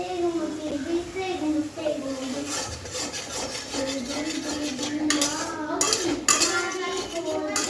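A spatula scrapes and clinks in a pan while poppy seed paste is sautéed, giving repeated metallic stirring knocks and rubbing. A voice talks over the cooking throughout.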